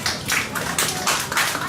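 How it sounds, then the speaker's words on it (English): An audience at an end-of-summer class celebration claps, a dense burst of many hands applauding close by in uneven waves for under two seconds. "Let's all clap our hands."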